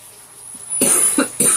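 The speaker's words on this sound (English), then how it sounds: "that dirt's got me coughing" A few short, sharp coughs from dirt while potting a Monstera plant, close by after a quiet moment, two or three bursts in quick succession.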